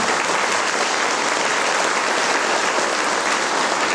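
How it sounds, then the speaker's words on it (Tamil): Audience at a school annual day gives sustained applause for the students' performance, a dense, even wash of clapping from a large crowd filling the whole stretch. "we have to give a great applause to the students"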